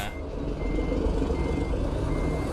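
Steady reversing beeps from a truck in American Truck Simulator, repeating over a loud continuous engine rumble, close and with no talking.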